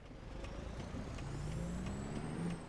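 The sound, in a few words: truck engine brake (Jake brake)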